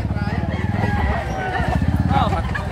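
Native roosters at a poultry market in Baliwag, Bulacan, crowing and clucking amid the crowd, with someone talking over the birds.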